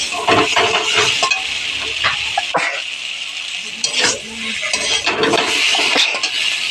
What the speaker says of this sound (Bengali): এই যে আলুটা ভাজা ভাজা হয়ে গেছে এখন এটার মধ্যে আমি জল দিয়ে দিব